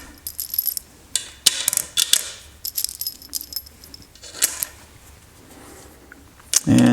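Washers being put onto the bolts of a rubber-backed steel lid, giving a run of light metallic clinks and jingles in irregular bursts, heard up close and alone.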